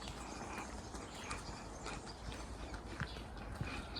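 Horse hooves clip-clop at a steady walking rhythm in a Pyrenees village in Spain, against constant outdoor background noise, fairly close and moderately loud.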